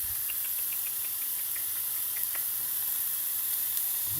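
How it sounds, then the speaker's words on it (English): Continuous sizzle and hiss of burgers frying in garlic- and pepperoncino-infused oil, a steady bright crackle close by with occasional pops, no voices. "in go the burgers. To that oil which has picked up garlic and pepperoncino tastes."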